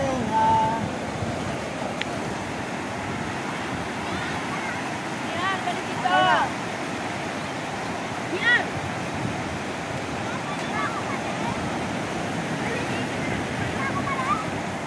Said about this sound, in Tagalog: Malaki na ng alon.